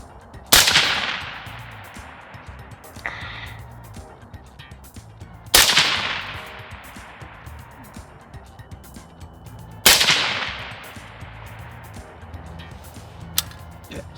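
Rifle shots fired at an outdoor shooting range through a Gideon Optics Guardian 1-10x28 LPVO: three sharp, loud cracks spaced about five seconds apart, each with a ringing decay, over a quiet outdoor background.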